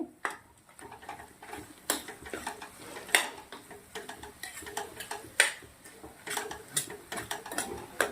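A spoon repeatedly scraping and clinking in a pan while masala is stirred into stuffed capsicum mixture, irregular close metallic taps and scrapes over a quiet background, no talk.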